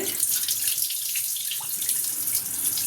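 Drinking water pours in a steady hiss over jowar semolina set to soak, an unbroken close stream of splashing that runs throughout.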